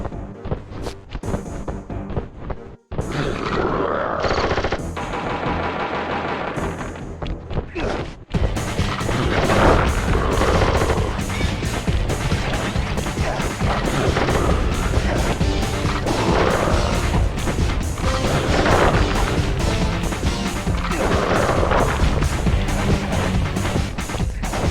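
Boss gunfire in Sly Cooper and the Thievius Raccoonus: a dense, continuous barrage of loud crashing shots and booms over game music, with a brief drop near three seconds before the heavy firing picks up and runs unbroken to the end.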